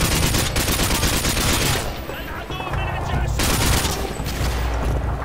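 Dense gunfire from Modern Warfare 2, with overlapping shots and bursts running loud and steady through most of the stretch and easing briefly in the middle before picking up again.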